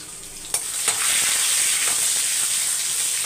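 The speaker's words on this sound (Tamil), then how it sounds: "இப்போ அது பொரிஞ்சோடனே ஒரு கட்டி பூண்டை அப்படியே சும்மா தோலோடையே நச்சு போட்டிருக்கேன்" Dried red chilies and a whole garlic bulb, crushed with the skin on, fry in hot oil. A few stirring clinks open a loud, continuous sizzle that fills the clip.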